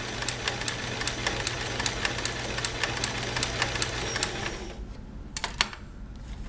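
A Kenmore 158.141 sewing machine with a 1.3 amp motor runs steadily with a fast, even clatter of needle strokes, then stops, leaving a few faint clicks.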